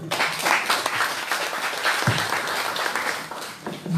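Audience applauding in a classroom or lecture setting, a dense burst of many hands clapping close by, swelling and fading slightly over a few seconds with no talk.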